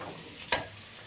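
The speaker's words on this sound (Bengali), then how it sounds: "অনি এখানে পেঁয়াজ আর ক্যাপসিকামটাকে তেলে ছেড়ে দিয়েছে" Onion and capsicum sizzle in hot oil in a kadhai for paneer, a soft continuous fry with one brief louder crackle or stir near the middle, no voices.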